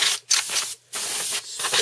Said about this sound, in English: spray it out, make sure I've got the crap out of it.